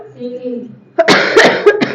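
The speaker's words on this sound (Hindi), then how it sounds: "मैं खांस रही हूं, आई एम कफिंग" A woman coughs: after a brief low voiced sound, several rough, close coughing bursts follow in quick succession.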